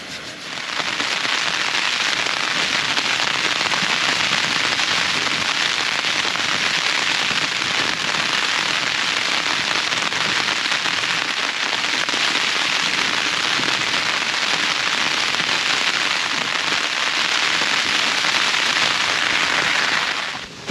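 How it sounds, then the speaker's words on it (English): Heavy rain with some wind on Boulsworth Hill in the South Pennines, a loud, dense, unbroken hiss of drops pattering on a nearby surface throughout. "it's quite a substantial amount of rain"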